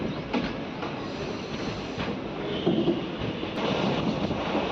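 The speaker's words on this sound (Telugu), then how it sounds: "మన ట్రైన్ అయితే వనపర్తి నుంచి బయలుదేరింది" Tungabhadra Express rolling along the tracks between Wanaparthy and Mahbubnagar, a steady loud rumble with wind buffeting the microphone and faint clickety-clack over the rails.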